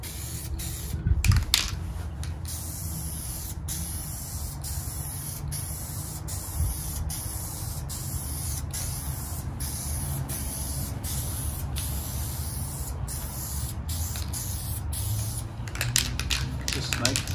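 A spray can hisses steadily as paint goes onto a molded dash cover for a 1979 Toyota Corolla TE31/KE30, a long continuous close spray with a few short bursts at the start.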